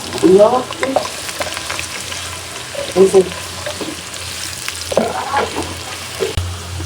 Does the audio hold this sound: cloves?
yes